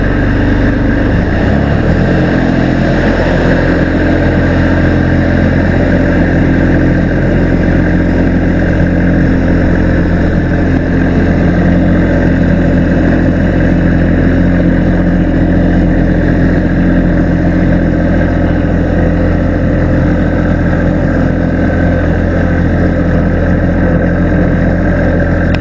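A snow plowing tractor engine started for a short trial run, settling into a loud, steady, close-up drone that holds without pause for the full length.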